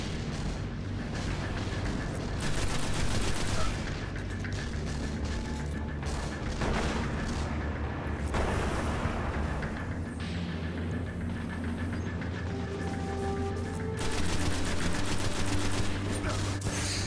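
Continuous rapid gunfire and booming blasts from a boss fight in the Destiny video game's Venus strike against Sekrion, Nexus Mind, dense and loud throughout with no pauses.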